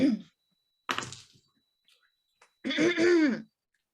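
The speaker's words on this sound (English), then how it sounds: "she's gonna keep clearing her throat and like giving him meaningful looks" A woman clears her throat in two short bursts separated by a pause, close and fairly loud, followed by a longer voiced throat noise; no one speaks.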